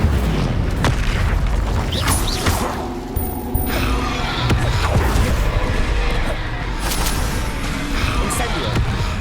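Incendio fire spell cast over and over in Hogwarts Legacy, with repeated booming, whooshing bursts of flame and impacts over nine seconds amid busy game noise.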